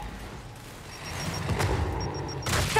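A frag grenade goes off in the video game Gears 5, a muffled rumbling thud followed by a sharper burst near the end over quiet background combat.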